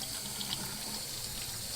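Hot water running steadily from a tap over a baseball glove, a continuous soft hiss and splash heard close and alone.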